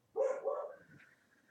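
A dog gives a single short bark, close and fairly clear, that trails off into a soft whine in a quiet room.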